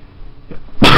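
A single loud, sudden sneeze bursts out close by after a short quiet breathy intake.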